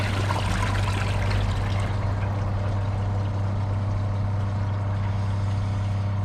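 Glacier Bay PowerFlush and Kohler Class 5 toilets flushing a grocery bag and microfiber towel together, a loud rushing gush of water over a low steady hum that eases into a softer trickle.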